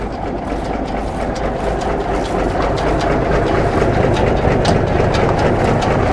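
An ERF tractor unit fitted with an LDV Sherpa van body rumbles loudly and steadily at a Young Farmers tractor pull and dyno day, its heavy engine roar constant and close throughout.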